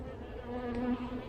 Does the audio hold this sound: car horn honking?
no